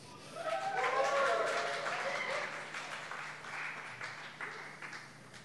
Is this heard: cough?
no